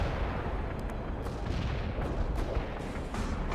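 Dense, continuous rumbling bomb strike explosions and artillery-like booms roll through a World in Conflict battle, steady and heavy throughout.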